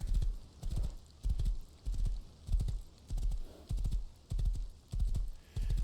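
Horse hooves galloping in the video game Rust, a steady run of heavy clip-clop beats repeating about every half second, close and loud with no talk over them.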